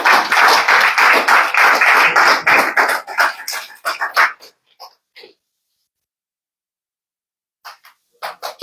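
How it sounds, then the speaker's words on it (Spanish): A church congregation at a Spanish-language Sunday service claps loudly in unison, the applause thinning to scattered claps and falling silent, then a few claps return at the end. "Un aplauso al Señor."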